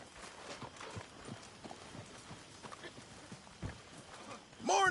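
A horse in the video game Red Dead Redemption 2 clip-clops with its hooves at a walking rhythm, faint and close, under quiet voices talking.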